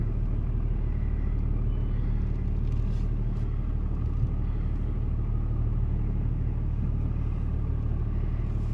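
Car bouncing along a rough off-road track, a steady low rumble and road noise running continuously and close, with no talk over it.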